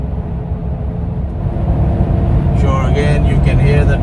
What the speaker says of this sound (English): again you can hear the tire noise